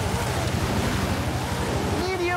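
A rally car splashes through water on a night rally in Forza Horizon 5, giving a steady, loud rushing wash with engine rumble underneath.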